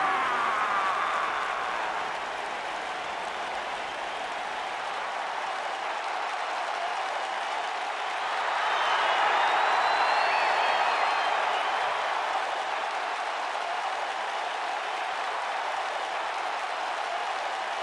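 Crowd applause and cheering from the WWE 2K19 video game, a steady broadband wash that swells briefly midway, with no talk over it.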